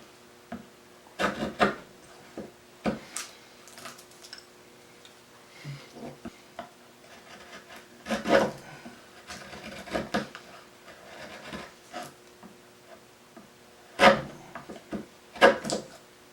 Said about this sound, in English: I'm going to try shaving down this slope.